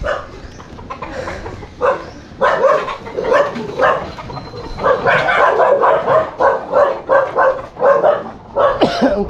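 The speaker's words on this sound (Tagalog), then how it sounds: "Ang tapang na aso nila." A dog barks repeatedly in loud bursts, a steady run of close barks with short gaps between them and no clear talk over them.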